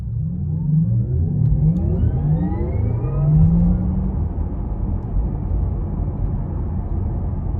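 A 2020 Porsche Taycan 4S electric car accelerating hard, its synthetic drive sound rising steadily in pitch over a constant loud road rumble, then levelling off into a sustained cruising drone.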